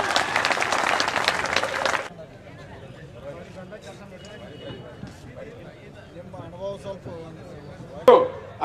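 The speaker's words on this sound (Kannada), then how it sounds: "ಜೋರಾಗಿ ಚಪ್ಪಾಳೆ ಹೇಳ್ಬೇಕು ಅವ್ರ ಬಂದು." Loud, dense applause from villagers at a farmers' protest gathering bursts for about two seconds and then stops abruptly, leaving someone speaking alone with a brief thump near the end.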